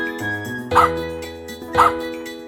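Two short dog barks punctuate a children's farm song, each sharp yelp rising over the bouncy backing music about a second apart.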